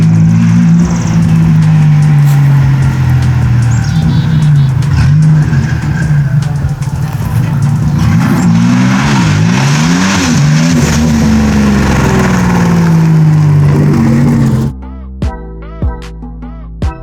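A turbocharged car rolls in close to the microphone, its engine droning loud and steady with shifting revs for most of the stretch before cutting out abruptly to near quiet with a few faint clicks.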